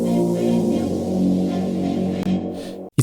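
Moog synth bass sent through reverb and a severe bandpass filter, giving a smooth, blurred, pad-like sustained tone that holds steady at moderate level and cuts off briefly near the end.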